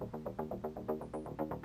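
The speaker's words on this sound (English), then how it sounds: "that's a really nice bass right there" A synth bass from the Output Arcade instrument in Cakewalk plays a short run of quick, rhythmic pulsing notes, fairly soft and alone, for under two seconds.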